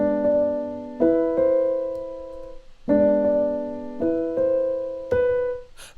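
Lo-fi piano chords with lowered note velocities, soft repeated chord strikes with staggered note starts ringing and fading between hits, a gentle uneven rhythm, close and alone.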